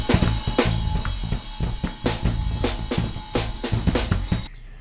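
Music with regular percussive hits plays through Airwindows SlewSonic slew-subtraction processing, giving a bright, hissy, thinned tone with a steady beat before cutting abruptly to near silence at the end.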